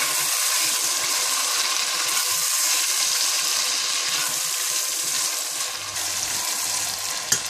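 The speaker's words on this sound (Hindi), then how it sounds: "थोड़ा सा भूनने के बाद आप इसमें टमाटर डाल दें। और इनको भी आप अच्छी तरह से भून लें।" Tomatoes fry in hot oil for a mutton liver masala, a steady close sizzle with faint stirring scrapes throughout and a small clink at the very end.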